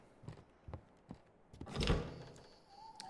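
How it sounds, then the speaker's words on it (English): Knocking at the front door in the lighthouse horror game Static Dread: a few faint dull knocks, then a louder thud and rumble in quiet game ambience. "Seems like someone is knocking at the front door."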